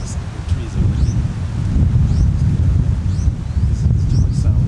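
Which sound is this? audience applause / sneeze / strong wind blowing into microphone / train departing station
strong wind blowing into microphone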